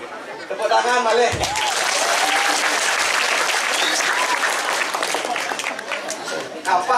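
A crowd claps steadily at a lively Balinese Barong performance, the applause loud and dense throughout with chatter and scattered laughter mixed in.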